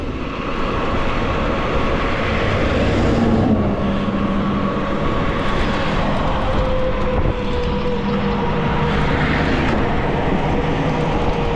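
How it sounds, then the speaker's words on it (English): Steady wind roar during a ride on an Aostirmotor S17 e-bike with a Bafang Ultra M620 mid-drive motor, a constant broadband rush with no pauses and nothing standing out above it. "yeah, see that wind's pushing his bike everywhere. Yeah, it's the wind."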